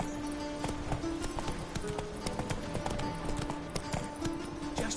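Roach the horse gallops in The Witcher 3, a steady run of quick, close hoofbeats under faint game music and ambience.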